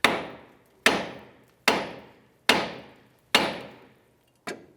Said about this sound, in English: you want to grab your hammer on the knuckle, and that's going to release this tie rod stud from the knuckle.